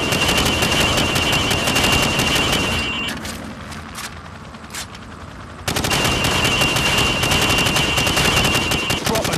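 Rifle fire at pop-up targets on a training range in Call of Duty 4 rings out as rapid, loud, close shots in dense bursts, with a brief quieter gap in the middle.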